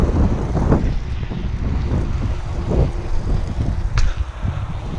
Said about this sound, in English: It's a bit gusty today, so I've got to be careful.